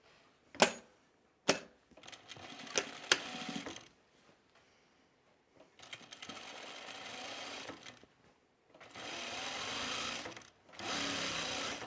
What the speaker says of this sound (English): we're going to sew the center front seam